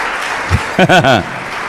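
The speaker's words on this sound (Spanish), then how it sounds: "Las mujeres aplauden, los hombres no." Congregation applause fills a church sermon as a dense, steady wash of clapping, while a voice calls out briefly over it near the middle.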